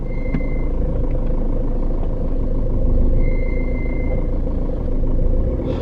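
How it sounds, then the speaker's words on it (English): A car engine making a bad noise rumbles steadily up close, with a thin, high-pitched whine that comes and goes over the low drone. "My car is making a really bad noise."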